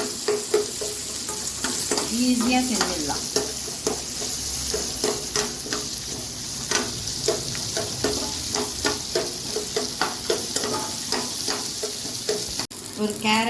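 Ivy gourd (kovakkai) sautéing in oil with garlic in a pan: a constant sizzle punctuated by rhythmic spatula scrapes, with a brief spoken remark.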